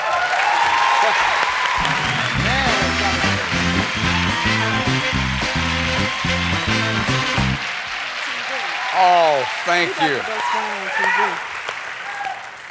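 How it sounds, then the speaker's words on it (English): A 1990 television studio audience applauds steadily, with a musical sting playing over the clapping before it fades and people start talking nearby. "the applause covered it up"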